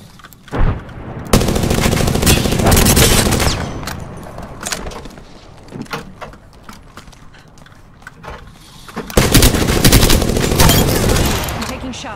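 Loud, rapid bursts of automatic gunfire in an Apex Legends match, one sustained volley near the start and another near the end, with quieter scattered shots between.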